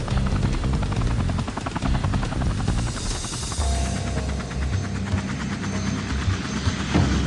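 A helicopter flying close over the Kulen Mountains before landing on the summit, its rotor thumping in a steady fast beat under a loud turbine whine, continuous and near throughout.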